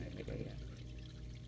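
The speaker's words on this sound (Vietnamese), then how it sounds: "Cái này mình xả nước để mình rửa ra" Water running into a manicure foot spa basin to rinse it, a steady low pour and splash heard faintly and continuously without talk.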